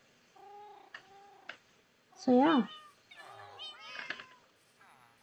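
Cats in the Minecraft game meow several times, with short, high calls spread across the moment and one louder, drawn-out meow near the middle, while a person talks quietly over them.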